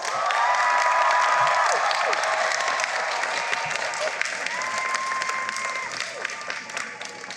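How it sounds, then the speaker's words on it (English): A large crowd applauds steadily at a commencement ceremony, dense clapping with scattered cheers and whistles, loud and sustained throughout with no let-up. "So now it's time for you to give them a great big round of applause."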